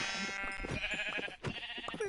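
Sheep bleating in a pen in the farming game Fjora, a few overlapping harmonic bleats close by over a busy game soundscape.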